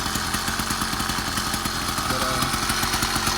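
A small two-stroke engine on a Roadmaster Granite Peak motorized bicycle idles steadily with a rapid, rattly putter, close and loud throughout.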